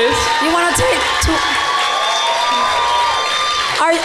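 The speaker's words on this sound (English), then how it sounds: "Round of applause for Carmen Yulin Cruz, please" An audience at an evening event in Holyoke cheers, whoops and applauds for Mayor Carmen Yulin Cruz. The crowd noise is loud and steady throughout, with shouts rising out of it and voices mixed in.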